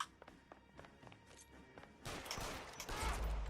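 Gunshots in 1947 Simulator ring out as scattered sharp cracks and thuds, faint at first and then a louder, denser volley in the second half.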